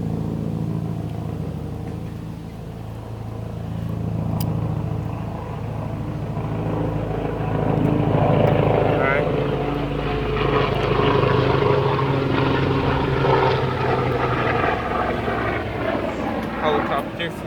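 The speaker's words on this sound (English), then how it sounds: "Helicopter flew over." A helicopter engine drones overhead, a low rumble swelling louder over several seconds, with a person talking underneath.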